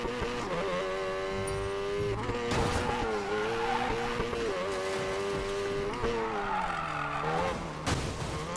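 A Mazda RX-7 Spirit R races in Need for Speed Payback, its engine holding a loud, steady, buzzing whine that dips and climbs with gear changes, broken by a couple of sharp bursts.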